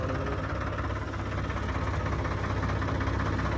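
A straw-chopping thresher machine runs in Rajasthan during the straw season, making a loud, unbroken mechanical drone with a steady churning vibration and no pauses.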